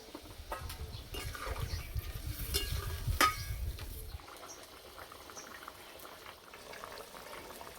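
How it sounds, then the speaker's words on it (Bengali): Water boils with spiced potatoes for a Bengali fish curry, bubbling loudly and steadily up close before settling into a quieter simmer. "এবার সিদ্ধ হওয়ার জন্য জল দিয়ে দেবো"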